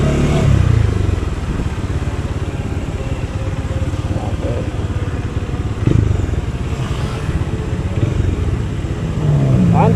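A Bajaj Dominar 400 motorcycle on a road test: a steady engine drone rolls on throughout, close and fairly loud, with small swells in throttle and some road noise. Talk is faint or absent.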